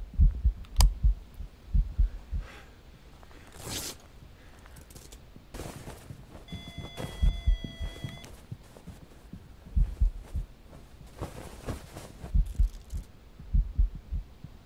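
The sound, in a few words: heartbeat sound in VR video game Phasmophobia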